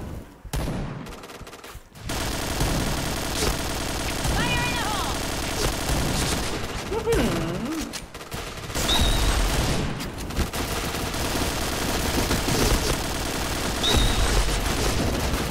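Video game gunfire crackles in dense, repeated bursts over about fifteen seconds, loud and close, mixed with game effects and occasional speech-like sounds.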